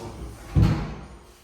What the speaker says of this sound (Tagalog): Tapos ang problema niya, hindi daw masarado yung pinto.